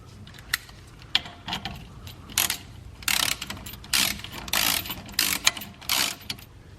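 A ratchet wrench tightens a bolt on an air spring stop on a bagged C4 Corvette, sounding in repeated short bursts of rapid clicking close up, separated by brief pauses.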